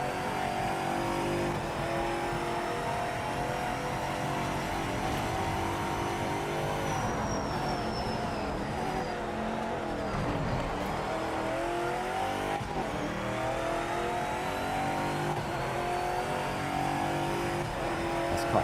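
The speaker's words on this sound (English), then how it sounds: "This car sounds so good." A GT500 race car engine in the Project Motor Racing video game screams at high revs, rising and falling through gear shifts, with brief tire squeal, loud and continuous.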